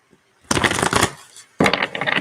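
Tarot cards being shuffled by hand to draw one, two close riffling bursts of rustling card noise separated by a brief pause.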